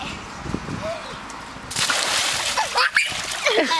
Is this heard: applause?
no